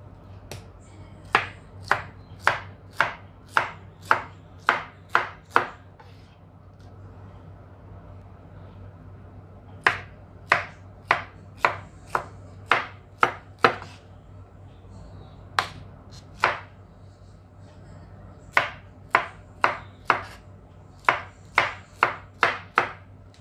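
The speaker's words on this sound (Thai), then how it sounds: "ก็หั่นประมาณหนาประมาณสัก1เซนค่ะ" Sharp knife chops slicing pineapple on a cutting board, falling in quick bursts of five to seven strokes separated by short pauses, close and clear over a low steady hum.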